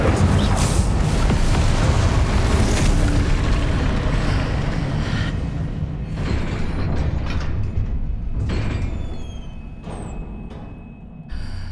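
Incendio fire spell explosion in Hogwarts Legacy: a loud roaring, rumbling blast with crackling and mechanical clatter that holds for several seconds, then thins out and fades toward the end.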